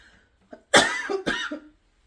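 Two sharp, harsh coughs close to the microphone, a short gap between them, with a faint throat sound just before.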